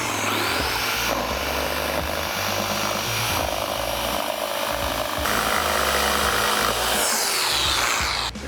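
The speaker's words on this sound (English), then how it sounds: "Cutting a straight line with a jigsaw is not easy" A loud jigsaw making a straight cut through wood, the blade buzzing harshly and continuously with brief dips in pitch as it bites, close up and without talk.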